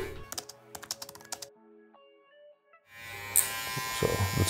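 Electric hair clippers fitted with a 1.5 guard trim a bushy beard, starting with a run of sharp clicks, a quiet pause, then a steady buzzing hum that switches on close by and continues to the end.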